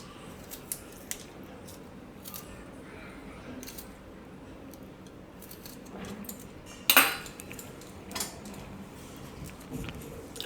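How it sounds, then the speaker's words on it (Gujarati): Peeled ginger is rubbed against a metal grater, a faint, uneven rasping with small metallic clicks and one sharp clatter partway through, quiet and close. "આદુને આપણે થોડુંક છીણીને નાખી દેવું, છાલ કાઢીને છીણી લેવું"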